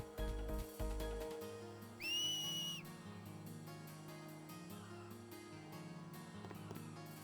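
A single sustained, shrill finger whistle in Final Fantasy X rings out for under a second, rising and then holding steady over quiet game ambience and soft rhythmic tapping.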